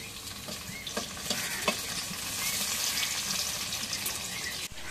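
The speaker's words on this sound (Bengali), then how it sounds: "এখন তেলের মধ্যে পেঁয়াজ কুচি দিয়ে দিই।" Chopped onion dropped into hot oil, sizzling steadily while being stirred, with a few sharp scraping clicks from a spoon in the pan, close and moderately loud.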